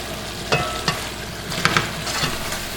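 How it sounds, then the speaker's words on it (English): Curry with curry powder being stirred in a frying pan over medium-high heat: a steady sizzle broken by several sharp scraping strokes of the utensil, close up and with no talking. "And stir it."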